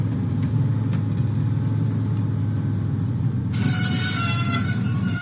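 Diesel train engine from a Thomas and Friends video game rumbling steadily with a low, continuous drone, joined partway through by brighter rattling and squealing tones from the wheels and track.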